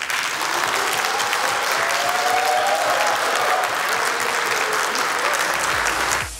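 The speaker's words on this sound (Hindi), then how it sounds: "एक और सवाल के जवाब में हॉल तालियों से गूंज उठा" A hall audience bursts into sustained applause in answer to a question put to Imran Khan: thick, continuous clapping from a large crowd, steady and loud throughout, with faint voices mixed in, ending abruptly.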